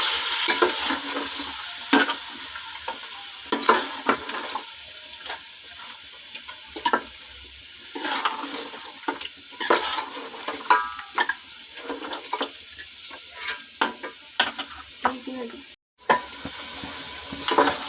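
Spice masala with salt and chillies being fried and stirred in a pot for shaljam gosht, a close, continuous sizzle broken by frequent scraping strokes of a spoon against the metal, loud and with no voices.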